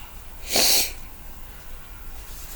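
One short, sharp nasal burst of air, close and fairly loud, against quiet background hiss.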